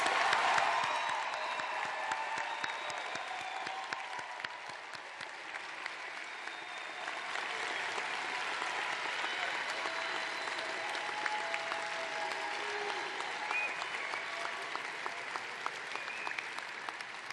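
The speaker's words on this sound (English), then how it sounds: "let's have one more round of applause, at least one more round of applause for all these graduates" Long, steady applause from a large crowd at a nursing school pre-commencement ceremony, even and continuous, slightly distant in a big hall.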